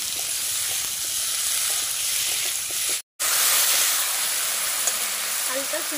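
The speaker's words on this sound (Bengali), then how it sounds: "ভালোভাবে ভেজে নেব আলুটা" Potatoes sizzling in a pan for a village onion-greens and fish recipe, a constant close frying hiss with faint stirring taps, broken by a brief silent cut in the middle.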